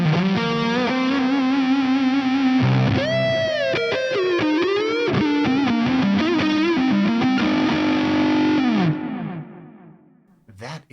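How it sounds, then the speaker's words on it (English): Heavily fuzzed electric guitar through an Axe-Fx III on a JTM45 amp model, channel C, with delay on: a sustained distorted chord, then a wild bending lead run full of squealing pitch slides, ringing out and fading at the end. "let's match a drive with the JTM45. I'm going to go with channel C. Maybe a fuzz? Let's hear the fuzz."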